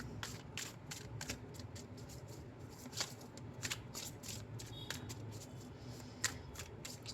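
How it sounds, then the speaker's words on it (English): Tarot cards are shuffled repeatedly by hand, giving a steady run of crisp riffling snaps and rustles, close and fairly quiet, with no talking. "let's shuffle your tarot card as well"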